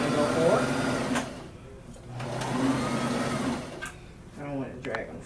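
A home sewing machine runs forward stitching a Simplicity S8740 pattern garment after a back stitch, its motor whirring steadily with brief pauses and a short rattle near the end. A voice speaks over parts of it.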